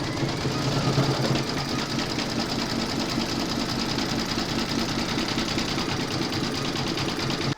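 A sewing machine zigzag-stitches along the join of a coffee placemat, running continuously and evenly throughout, close and loud.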